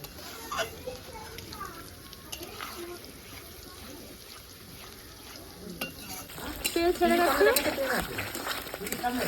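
Spices and curd are stirred and fried together in a pan, giving a continuous sizzle with spoon scraping that grows louder and busier toward the end, under some background talk.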